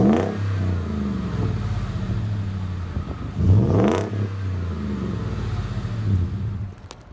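A car engine runs steadily at idle with a low, even rumble, rising briefly into a louder rev midway before settling back to a constant hum.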